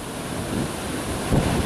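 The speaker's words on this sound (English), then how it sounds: "Water. Just a lot of water." Hurricane wind and surging water at the shore in St. Marks, Florida, a loud, continuous roar of wind buffeting the microphone over crashing, rushing waves.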